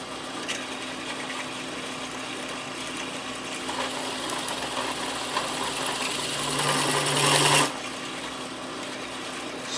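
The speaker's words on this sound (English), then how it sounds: "The next step is to drill holes." A 5/32 bit drilling holes into an AK47 scope rail at slow speed, giving a steady, even whirring grind that holds for most of the stretch, swells near the end and then cuts off.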